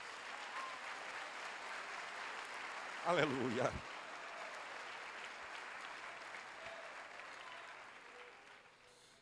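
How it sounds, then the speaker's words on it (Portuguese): Church congregation applauds steadily in a continuous wash of clapping, with a voice briefly calling out over it midway before the applause slowly fades. "Aplauda a Deus."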